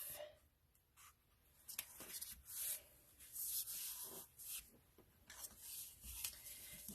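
Daffodil Delight cardstock is folded in half for a card base, heard as close, soft rubbing and scraping strokes in a series as the crease is pressed and smoothed.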